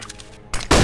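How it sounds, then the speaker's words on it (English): A flashbang grenade goes off in Counter-Strike: Global Offensive. A short muffled stretch leads into a sudden sharp crack and then a bright, loud ringing burst that stays up to the end. "Flashbang."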